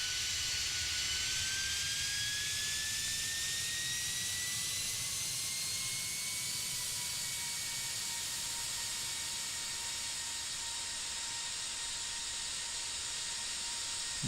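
Simulated airliner jet engines whine steadily while the plane turns off the runway in Tower! Simulator 3, with rising and then settling turbine tones over a constant hiss.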